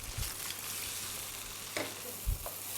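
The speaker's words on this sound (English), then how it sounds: "just drop in the meatballs into this pan" Lamb meatballs fry in a pan with a soft, steady sizzle, broken by a couple of faint clicks and knocks from handling the pan.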